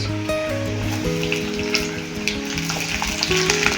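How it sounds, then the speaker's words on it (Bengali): Onions sizzling in hot oil with chopped ginger and garlic, for a soybean dish cooked Chinese style. Steady, close, loud frying crackle runs throughout, with light stirring and faint tonal sounds underneath. "আদা রসুন ভাজা হয়ে গেছে, এবারে দিয়ে দেবো পেঁয়াজ"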